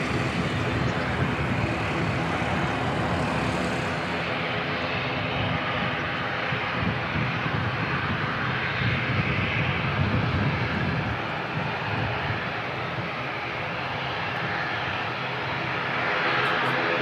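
Jetstar airliner jet engines roaring at Christchurch Airport, a loud, steady broadband rumble that holds throughout with no pauses, close and continuous.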